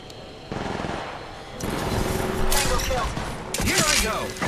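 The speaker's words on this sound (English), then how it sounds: "The enemies are shooting at me!" Bursts of automatic gunfire in Apex Legends Mobile, rapid crackling volleys growing louder and denser toward the end, mixed with game effects.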